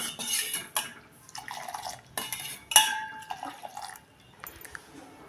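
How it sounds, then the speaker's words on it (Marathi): A metal spoon scrapes and clinks against a pan while jaggery tea is stirred steadily, giving a series of close, irregular clatters and soft liquid swishes. "म्हणून हा चहा असा एकसारखा सतत हलवत राहावा"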